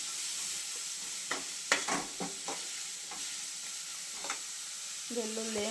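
Garlic, tomato and onion cook in a pan with a steady low sizzle, broken by several sharp scrapes and clinks of stirring, and a brief tonal hum near the end.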